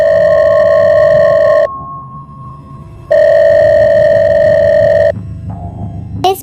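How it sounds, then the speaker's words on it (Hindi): A mobile phone kept in a pocket rings with a loud electronic tone in two long bursts separated by a pause, followed by fainter tonal sounds and a brief rustle at the end. "पॉकेट में रखा उसका फ़ोन दोबारा बजा"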